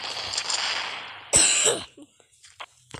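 A single harsh cough bursts out close and loud, preceded by a noisy stretch and followed by a few faint small sounds, heard during a Mini Militia mobile game session.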